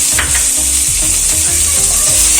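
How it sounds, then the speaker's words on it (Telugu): Chopped onions sizzle loudly in hot oil for Andhra-style palakura pappu, a dense steady hiss with rhythmic scraping strokes of a ladle, close and continuous with no speech. "దీంట్లోకి కట్ చేసి పెట్టుకున్న ఆనియన్స్ కూడా యాడ్ చేసుకోవాలండి."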